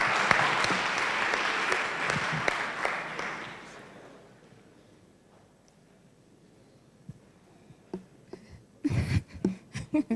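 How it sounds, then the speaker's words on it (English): An indoor audience at a fireside-chat event claps loudly and steadily for about four seconds, the applause tapering off into quiet before a few thumps and a voice return near the end. "A round of applause for her."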